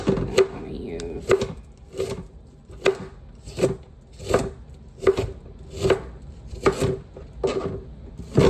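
Leftover onion being chopped on a board with a kitchen knife while sticky ribs are prepared, about a dozen crisp, evenly spaced knife strokes, close and clear.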